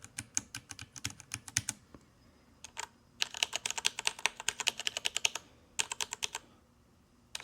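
Close, crisp keystrokes on a Ducky One 3 SF 65% keyboard, typed in quick bursts with a short pause partway through, then resuming in rapid clatter; no talking.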